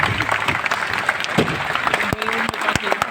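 Audience applause fills the room, a dense steady patter of many hands with a few louder sharp claps standing out near the end.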